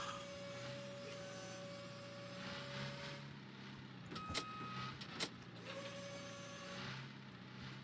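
Forklift in a video game raising its forks: a steady mechanical whine and engine drone, broken midway by a few sharp clanks and a brief tone, then the hum resumes at even loudness.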